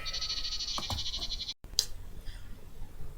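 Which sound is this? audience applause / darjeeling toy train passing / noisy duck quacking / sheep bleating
sheep bleating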